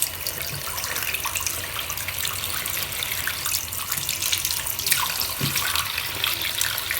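Rolling tubes being rinsed under a running tap into a sink, a steady close hiss of flowing water with small splashes and shifts as the tubes are moved, no talking.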